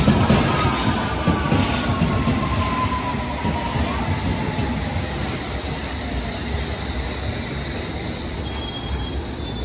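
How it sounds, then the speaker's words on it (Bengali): A train pulling into a London Underground station, with steady rumbling wheels on the rails and long metallic squeals drawn out over the whole stretch, loud and close, with no voices. "2 মিনিট 3 মিনিট পরে পরে ট্রেন আসবে"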